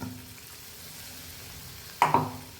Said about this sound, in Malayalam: ജാറ് കഴുകിയ വെള്ളം ഒഴിച്ചു കൊടുക്കാം